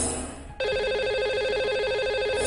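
Outgoing phone call placed to a radio show caller: after a brief pause, an electronic telephone ringtone starts and pulses steadily in a warbling, repeating pattern, loud and close.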